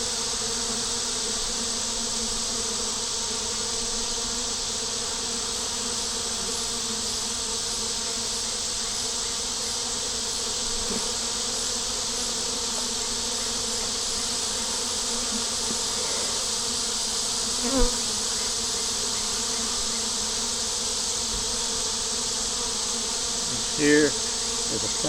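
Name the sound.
honey bees buzzing around an open hive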